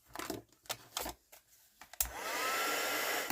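A handheld heat dryer blowing on fresh paint on a die-cut mixed media craft embellishment switches on abruptly after a few clicks and handling noises, then runs as a steady, close whooshing roar.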